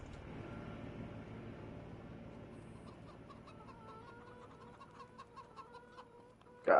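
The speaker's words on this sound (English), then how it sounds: "Hundred chickens in here." Flock of about a hundred chickens clucking inside a coop in Farming Simulator 25, a dense steady murmur of fowl calls with sharper individual clucks rising toward the end, no talking.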